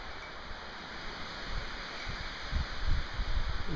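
Wind gusts through rustling leaves, a broad airy hiss that swells louder toward the end, with low rumbling buffets.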